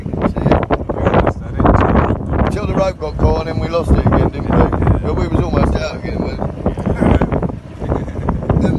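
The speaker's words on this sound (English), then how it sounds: "That fucking wind's a bastard" Strong wind buffets the microphone at the waterside while an old gaff cutter is hauled out of the water, a loud continuous roar with people talking over it.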